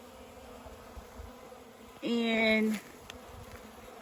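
A single bee at a water feeder buzzes loudly past close by for under a second, a steady droning hum over quiet outdoor background, with a brief spoken word.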